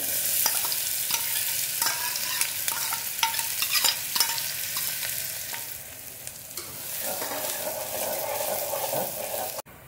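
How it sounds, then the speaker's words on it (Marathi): Finely chopped small onions frying in hot oil for a dry mutton curry, with a steady sizzle broken by repeated sharp scrapes and stirs of a spatula, heard close with no talking. "आता या तेलामध्ये सर्वप्रथम हे 2 छोटे कांदे घेतलेले आहेत बारीक चिरून, ते आता आपण ह्याच्यात परतून घेणार आहोत"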